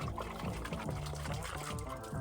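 Water pours and splashes out of a flooded car's engine part in a continuous gurgling stream, fairly quiet and close.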